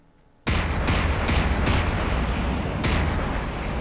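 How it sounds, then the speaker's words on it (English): Rapid, booming fire from an advanced cannon in the game From the Depths bursts in abruptly and keeps going as a dense, rumbling barrage of short, shallow-sounding shots, loud and close. "it's kind of this shallow cannon."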